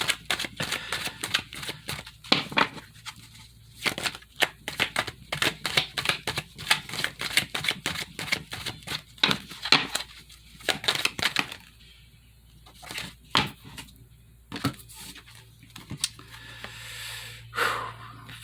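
A tarot deck is shuffled close up in repeated quick riffles and crisp bursts of card flicking, with brief pauses between rounds and no voices.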